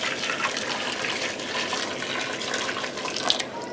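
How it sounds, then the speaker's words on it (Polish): Boiling water poured from a kettle over frozen broccoli in a kitchen, a steady, close splashing stream of liquid that runs without pause from start to finish. "bierzemy sobie brokuły mrożone, zalewamy wrzątkiem, żeby było szybciej."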